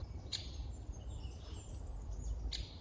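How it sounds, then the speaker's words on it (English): Black woodpecker calling in a forest, two brief bright calls near the start and end over a steady low ambient rumble, fairly distant and faint. "Listen to this black woodpecker."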